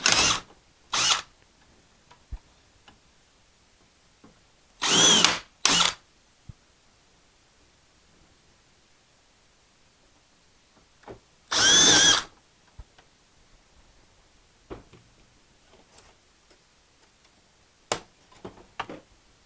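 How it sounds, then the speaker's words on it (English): A 1/4 inch drill bores out plastic-welded studs on a 2003 Ram stereo panel in short, loud bursts of whirring, separated by quiet pauses and small clicks. "So you use a 1/4 inch drill."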